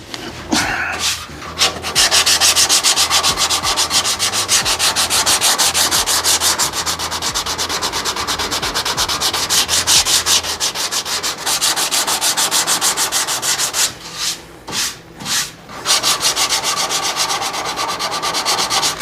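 A hand works 180-grit sandpaper over a dent repair in long, continuous scratchy strokes, close and loud, with a few brief pauses near the start and toward the end.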